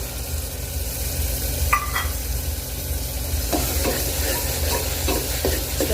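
Green peas tipped into bubbling masala in a pan, with a few spoon scrapes and stirring clatters over a steady close sizzle, no voices.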